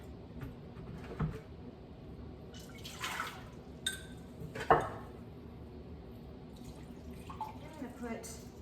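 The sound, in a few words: pouring vinegar for pickle brine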